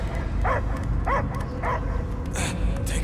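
A dog barks in Marvel's Guardians of the Galaxy video game, giving three evenly spaced barks under a steady game background, followed by a couple of brighter noisy bursts.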